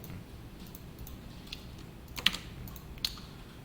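Soft, quick keystrokes from someone typing HTML and CSS code on a computer keyboard, a light irregular patter with a couple of sharper clicks, close and quiet with no speech.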